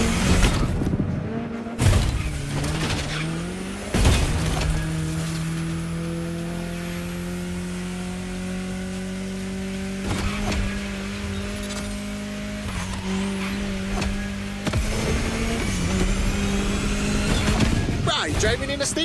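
A car drives through a state capital town in The Crew Motorfest, its engine droning steadily and climbing through several gear shifts, with brief tire squeals and mechanical clunks, close and continuous.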